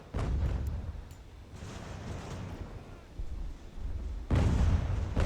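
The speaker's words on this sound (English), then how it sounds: "And actually, the artillery is doing a fantastic job." Artillery firing in the video game Ultimate General: American Revolution, heavy low booms rolling under windy battlefield ambience, with a louder blast near the end.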